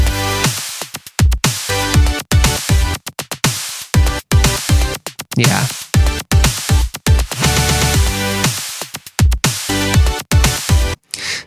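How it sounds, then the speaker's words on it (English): Soloed drum parts with pads from a song mix play a punchy, rhythmic pattern of loud hits over sustained pad tones, with brief gaps between phrases. A single short spoken word is heard. "I'm just going to solo all these cool little drum parts here and then let you hear what they sound like with just the drums and those pads"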